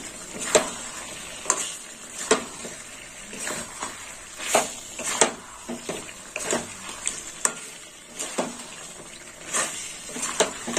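Cashew paste is stirred into Kashmiri chicken in a pan, with repeated scraping strokes at an even rhythm over a steady sizzle, close and fairly loud.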